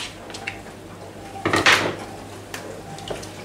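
A spoon clinks and scrapes inside an Instant Pot while tomato paste is stirred into vegetable soup, with quiet light taps and then a brief louder metallic scraping burst near the middle.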